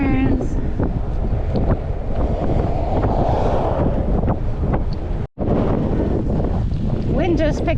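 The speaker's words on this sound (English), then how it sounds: "Wind just picked up, heading towards Fort Cummings right now." Strong wind buffets the microphone while riding bikes on a road during a winter bikepacking trip, a steady roaring rumble throughout with one brief dropout near the end.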